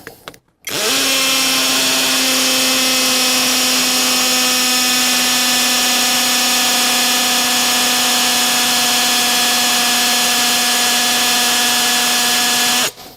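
A brushless cordless drill whines continuously at a steady high pitch for several seconds while boring into stone, close and loud with no talking.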